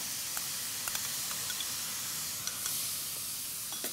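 Onion paste hitting a hot pan gives a steady, bright sizzling hiss with a few faint crackles, close and even throughout.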